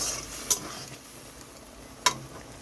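Prawns are stirred and sautéed in a pan with added water, giving a soft steady sizzle beneath two sharp metallic clinks of a utensil against the pan, close and alone.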